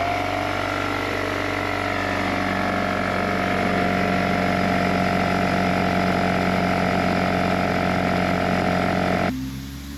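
An air compressor charges up before blowing out sprinkler lines to winterize them. Its motor drones loud, close and steady, with no talk, then cuts off abruptly just before the end.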